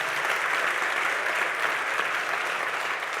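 A studio audience at a boxing-themed talk show event applauds steadily, a dense, sustained wash of clapping at moderate loudness with no voices over it.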